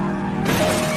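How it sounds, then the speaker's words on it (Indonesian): Glass shatters abruptly as a car swerves off its lane and smashes into a road barrier in a film, a loud crashing burst over a steady rumbling background. "yang membuat mobilnya keluar jalur dan menabrak pembatas jalan."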